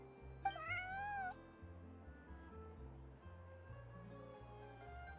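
A cat meows once, clear and drawn out, in the game Genshin Impact, followed by soft background music with no other sounds.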